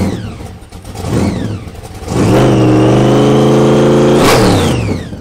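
A 1949 Ford F1 pickup with a 501 cubic inch V8 built from a bored-out 460 revs up loud and close, its engine tone climbing and holding before a second sharp rev near the end.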